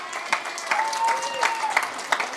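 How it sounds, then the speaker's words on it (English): Audience clapping and applause at a live Aussie Rules footy comedy show, a steady patter of hands with a few sharper claps, moderately loud and continuous over a short stretch. "While you're feeling that you love putting your hands together and doing the clap thing"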